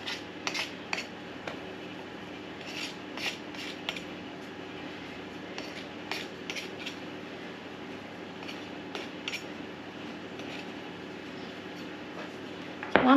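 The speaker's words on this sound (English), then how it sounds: "Get my little knife, which I washed, and then just go around the edge." A small knife runs around the rim of beef ragu pie pastry in a tin, producing light, scattered metallic taps and scrapes over a quiet background, then a louder clatter at the end.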